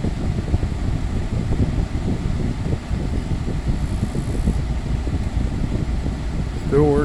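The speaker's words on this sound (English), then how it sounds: "Give it a minute for the compressor to kick in." Window air conditioner running with a steady fan whoosh and low hum as its compressor kicks in, with a voice heard over it.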